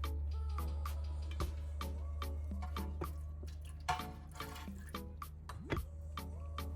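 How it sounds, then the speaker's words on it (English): Water drips and trickles close by with sharp little splashes at irregular intervals over a low steady hum, as rusty metal tools are rinsed with clean water. "Rinse everything with clean water."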